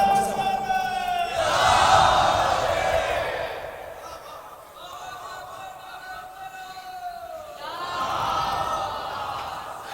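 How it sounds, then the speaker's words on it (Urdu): A crowd at a religious gathering roars back a loud chanted response to a leader's call, swelling in one big surge and then a second shorter one, with the lead voice heard between them. "آئیے ان کے نعرے کا جواب بلند ترین دیجئے"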